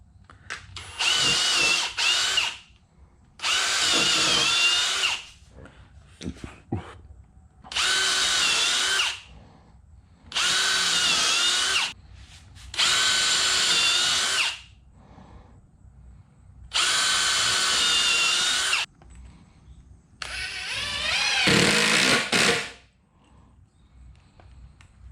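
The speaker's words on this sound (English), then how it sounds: "I'm gonna go ahead and drill some pilot holes." A power drill boring pilot holes into wood for a backyard firewood rack frame, heard up close in about seven loud, steady whirring bursts of a few seconds each, separated by short pauses.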